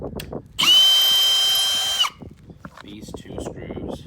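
A power drill backs screws out of an aluminum storm door during installation, a single loud whirring burst lasting about a second and a half, with quiet handling noise around it.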